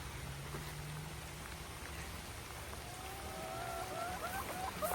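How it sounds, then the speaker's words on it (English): Steady rain falls across a homestead garden, a soft continuous patter of drops on surfaces at moderate distance, with faint birdsong chirping near the end and no one speaking. "I'll take you along with me in the rain"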